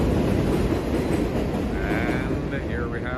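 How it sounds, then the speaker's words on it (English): A New York City subway 1 train passes at 231st Street Station in the Bronx, a loud continuous roar of rolling wheels with rising metallic squeals near the end. "That's the sound of the one train."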